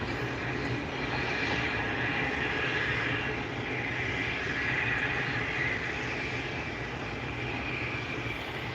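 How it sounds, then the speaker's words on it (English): American Airlines Airbus A321neo at the end of the runway at an airport, its jet engines producing a steady, distant broadband roar and whine that stays even throughout with no talking. "At the end of the runway, there's that American Airbus A321 going to Charlotte, North Carolina."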